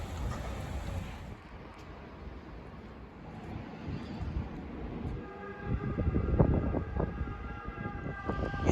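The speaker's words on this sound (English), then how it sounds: "You know you're in Italy because you constantly hear sirens." Emergency sirens in an Italian town on the Ligurian coast, a wailing tone rising out of distant street and traffic noise and growing louder toward the end.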